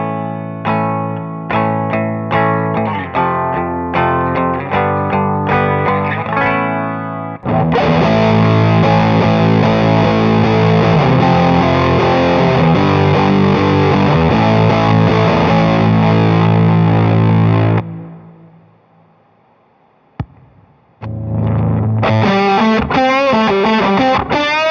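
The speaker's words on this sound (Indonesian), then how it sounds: "gimana kalau si oktav ini digabung dengan fuzz yang high gain?" An electric guitar runs through an octave pedal stacked with a Big Muff-style high-gain silicon fuzz with four transistors, giving loud, thick, saturated tones: choppy riffs, a long sustained wall of fuzz that fades out, then the riffing resumes.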